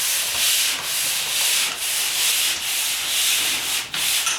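A drywall finish is dusted down with steady rubbing strokes in a rhythmic back-and-forth. The sound is close and loud, and no one speaks.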